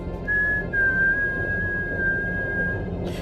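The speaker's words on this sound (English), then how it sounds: "Again, the whistling." A single sustained whistled tone, clear and close, held almost level for nearly three seconds with a brief break near the start, over a low background hum.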